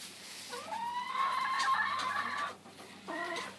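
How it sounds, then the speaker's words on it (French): Rhode Island Red and black hens file into their coop through a small trap door, clucking and making short rising calls nearby, with a few quick staccato clucks at the end. "Et voilà les poules qui rentrent."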